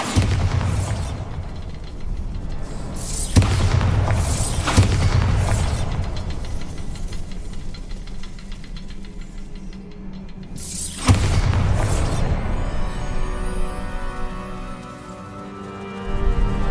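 Bombarda spell blasts in the Hogwarts Legacy video game: three loud booming explosions with rumbling decay, spaced a few seconds apart, over a low ambient game background with no talking.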